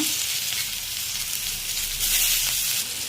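Chopped tomatoes, with coconut added, sauté in a pan for tomato chutney, giving a close, steady hissing sizzle that carries on without a break.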